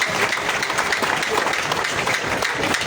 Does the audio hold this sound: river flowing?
no